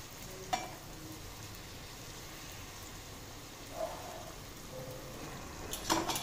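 Sweets for Ashadhi Ekadashi sizzling steadily in hot oil on a home stove, a continuous fizzing hiss with a few soft clinks of utensils near the end.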